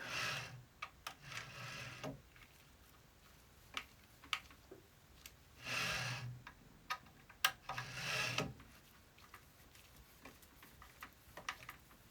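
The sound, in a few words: tightening screws on Prusa MK4 Y carriage rear plate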